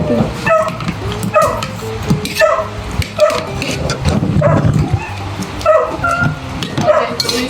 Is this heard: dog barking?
yes